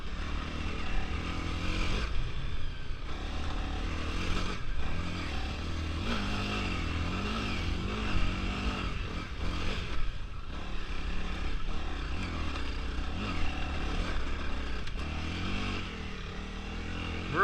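A Honda CRF300L dual sport motorcycle rides a trail, its engine droning and revving continuously up close, rising and falling with throttle changes alongside scraping and clatter.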